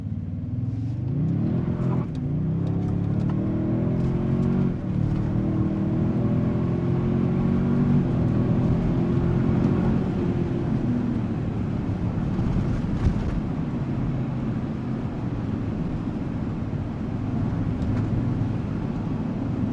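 A 2026 Toyota Sequoia TRD Pro in four-wheel drive and sport mode drives hard. The engine drones steadily and its revs rise and shift, with wind and road rumble throughout.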